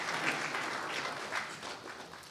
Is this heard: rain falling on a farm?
no